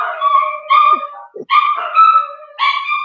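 Dogs bark, yip and whimper in a series of close, loud, pitched calls, with short gaps between them.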